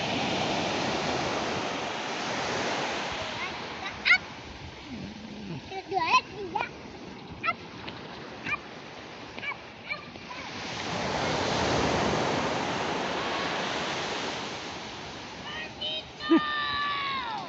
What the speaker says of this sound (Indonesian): inilah suasana di pantai ini